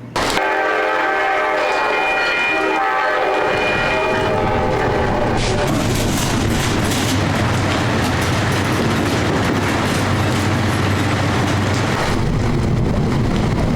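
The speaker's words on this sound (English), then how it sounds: "my horn and my train sound effects should mesh into each other a little bit better" A train horn blares with chords, then gives way to a loud rumbling train passing with continuous clattering wheels and rushing noise.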